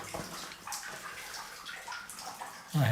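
Feet moving through about six inches of standing water on a floor strewn with wood timber, giving soft sloshing and splashing close by, with a heavier splash at the end.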